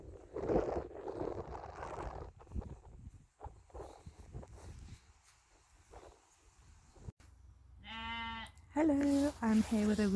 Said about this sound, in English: there is a sheep right outside the tent going mental